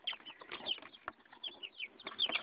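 Busy, overlapping clucking from chickens or a rooster, close by, with quick chattering calls following one another without pause.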